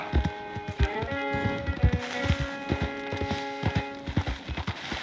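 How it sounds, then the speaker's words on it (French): Horse hooves clip-clopping at a steady walking rhythm in the Western video game Red Dead Redemption 2, with soft ambient tones and music underneath. "Il descend de la montagne à cheval"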